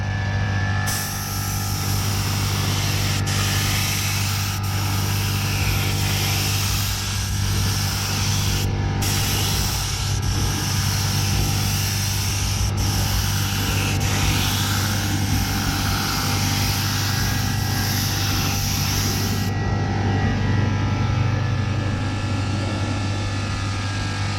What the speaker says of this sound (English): and we're ready to spray.